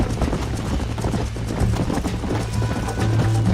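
Horse hooves gallop in a steady, driving clip-clop rhythm through the Red Dead Redemption video game, loud and close, with game ambience underneath.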